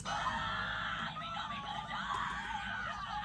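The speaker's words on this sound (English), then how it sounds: "Your screams aren't helping!" Continuous screaming, a high strained cry sustained across the whole stretch with slight wavering, fairly close and alone.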